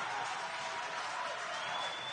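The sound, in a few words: basketball crowd cheering after a missed free throw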